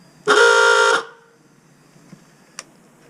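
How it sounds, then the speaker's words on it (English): A single loud, rasping blast from an old klaxon horn lasting under a second, followed by quiet room noise and a faint click. "I found an old klaxon"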